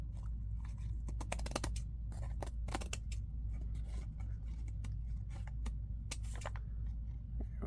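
Scissors snip repeatedly while trimming around a paper pocket envelope in shabby chic vintage style, with crisp close cuts in irregular bursts over a low steady background hum.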